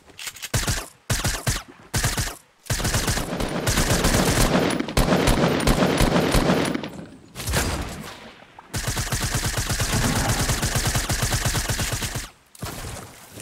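A minigun in the Fortnite video game fires in long rapid bursts, loud and close, separated by short silent pauses, with a few brief stuttering bursts at the start and end.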